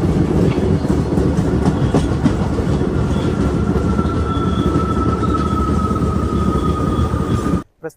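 Inside the Kacheguda Guntur Express pulling into Donakonda station, loud steady wheel rumble and clickety-clack rolls on with a thin squeal of braking wheels, cutting off abruptly at the end, no voices.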